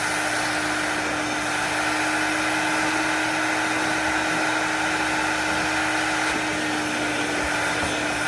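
Steady, loud whoosh of a Vapor Clean Desiderio Plus vacuum pulling at a car floor mat, a continuous broadband roar with a faint whine holding level throughout and no voices.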